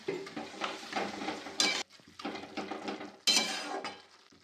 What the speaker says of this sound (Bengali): একটুখানি জল দিয়ে দেবো।